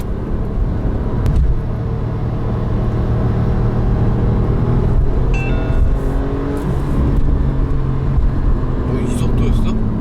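A Porsche 911 Carrera 4S engine hums steadily from inside the car while driving, a continuous low drone with a few shifts in pitch, under a person talking.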